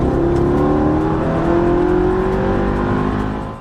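A supercharged Mercedes-AMG E55 (W211) accelerates with a loud, continuous engine note whose pitch climbs steadily, then tapers off at the end.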